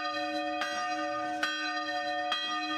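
A village church bell rings with a steady, ringing tone full of sustained overtones, struck three times at roughly regular intervals, each strike fading into the next.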